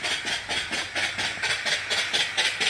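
Antique reproduction vertical steam engine running on boiler steam, with a loud, rapid rhythmic chuffing and hiss at a steady beat, close up and alone.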